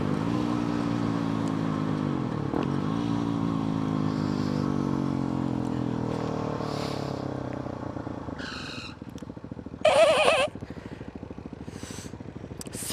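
A supermoto motorcycle engine drones steadily up close, its note shifting as it revs, then thinning out, with a few short sharp bursts of noise toward the end.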